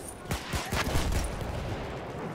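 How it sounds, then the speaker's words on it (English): Several bursts of distant gunfire crackle in quick succession in a Battlefield video game, followed by a lingering rumbling echo. "the weapons firing in the distance"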